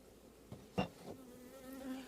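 Soft honeybee buzzing around an open hive hums steadily at low level, with a few brief louder swells as bees pass close.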